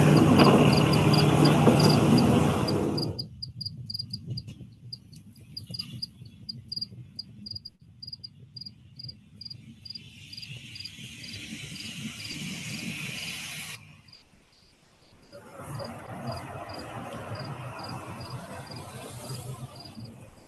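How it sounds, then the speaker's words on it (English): Crickets chirp in a steady, dense outdoor chorus, loud at first, then quieter and thinner in the middle before the full pulsing trill returns, with no voices. "Then we go with the crickets."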